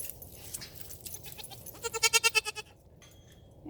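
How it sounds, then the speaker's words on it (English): Goats on a farm bleat in a quick run of several calls, fairly close and loud over a quiet background, with softer bleats before and a lull after. "gonna check out these cute little goats. Look at these goats."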